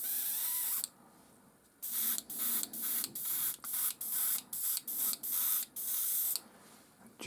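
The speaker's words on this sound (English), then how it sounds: "So a little bit of Vallejo white in my airbrush." Airbrush spraying Vallejo white paint for snow terrain, a hissing spray in about ten short bursts of varying length, close and fairly loud, broken by quiet pauses.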